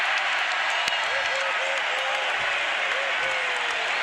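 A basketball arena crowd roars and claps in a dense, sustained wash of noise from many spectators, with a few whistles or calls rising above it.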